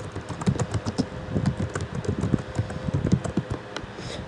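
Fingers typing on a Mac computer keyboard, a fast, uneven patter of close key clicks running steadily throughout with no voice.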